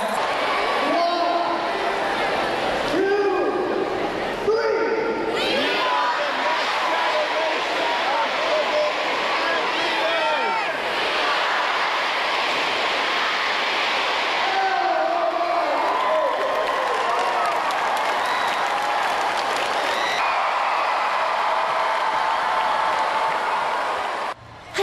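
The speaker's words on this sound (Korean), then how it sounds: "개막식의 열기는 여기에 모인 모두의 함성으로 최고조에 이른다." A huge stadium crowd roars and cheers at the opening ceremony of the World DI (Destination Imagination) youth competition, a dense sustained wall of shouting, whoops and applause with loud voices rising above it.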